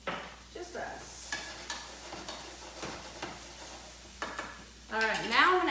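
Onions fry in a pan with a soft continuous sizzle, broken by repeated clicks and scrapes of a utensil stirring them, and a voice comes in briefly at the end.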